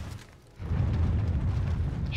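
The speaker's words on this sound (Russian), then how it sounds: "Еще какие-то взрывы идут." Explosions in Blades of Time swell into a deep, sustained rumbling roar after a brief lull, heavy and continuous through the rest of the moment, with no talk.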